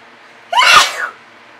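A single loud sneeze close by, with a short sharp inhale leading into a forceful burst that trails off quickly.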